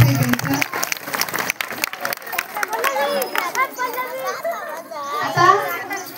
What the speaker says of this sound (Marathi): सर्व विद्यार्थ्यांनी पालकांनी जोरात टाळ्या वाजवून एकदा स्वागत करायचे त्यांचं